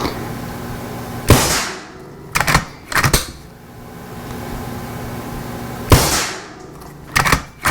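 Several sharp rifle shots from a converted Skout STX rifle ring out, a single report followed by two spaced pairs and then another single and pair, each loud and cracking with a short echoing tail against quiet background.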